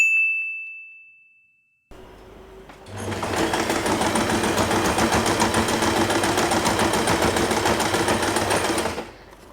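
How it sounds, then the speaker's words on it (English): Home sewing machine stitching fabric for a double-stacked hair bow centerpiece, a steady loud mechanical whir running about six seconds after a brief bell-like ding and a short quiet pause. "and we are going to sew this part."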